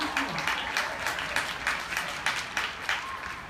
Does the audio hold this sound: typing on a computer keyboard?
no